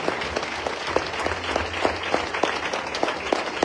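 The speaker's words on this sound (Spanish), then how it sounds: "Dale un aplauso fuerte al Espíritu Santo." A church congregation claps together in a dense, steady round of applause, with a few louder individual claps standing out.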